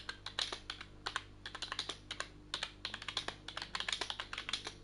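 Rapid, uneven clatter of keys being typed on a computer keyboard during a BTCC sim racing session, close and crisp with short bursts and brief pauses, alone without talk.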